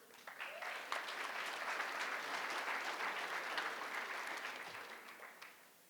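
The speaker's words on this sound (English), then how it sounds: "let's give all of them a round of applause again" Applause from an audience at a university athletics hall of fame ceremony, honoring coaches; a steady wash of clapping for several seconds that fades toward the end, fairly distant and moderate in level.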